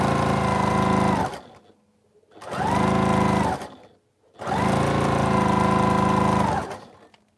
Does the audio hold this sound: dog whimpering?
no